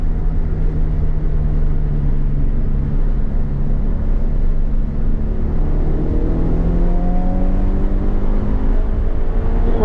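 A car engine at steady highway speed, a loud continuous drone with tones that rise gradually toward the end, no talk over it.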